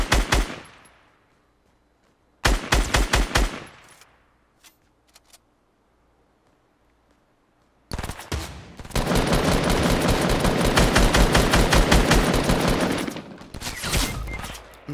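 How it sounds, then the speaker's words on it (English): Fortnite Battle Royale gunfire comes in loud automatic bursts: two short volleys near the start, a long pause with a few faint pops, then a sustained rapid stream for several seconds, close and dominant. "I keep shooting the fucking wall that's in front of me"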